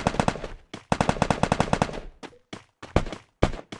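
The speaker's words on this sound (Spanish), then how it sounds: "cómo se ven los balazos en el agua" Automatic gunfire in the Free Fire mobile battle royale game, close and loud rapid bursts of shots separated by short pauses, with a few single shots near the end and no talk.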